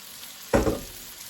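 Round steak meat hits a hot pan in one brief, close sizzling burst that swells and then quickly settles back into a faint background hiss, no one talking.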